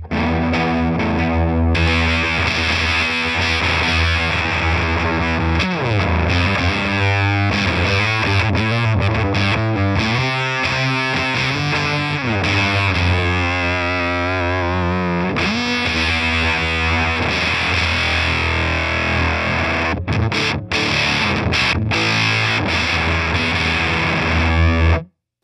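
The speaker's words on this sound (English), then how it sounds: "Let's start with just a kind of full-on octave sound so you can hear what that is." Electric guitar on the bridge pickup runs through a Prescription Electronics COB octave fuzz pedal, giving a thick, saturated, buzzing tone with sliding notes and sustained chords, loud and continuous without talk.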